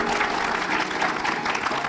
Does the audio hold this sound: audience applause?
yes